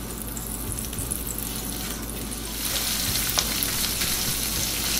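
Chorizo fries in a little oil while being broken up in the pan, a steady close sizzle that grows a bit louder and brighter midway, with faint scraping and clicks of the utensil.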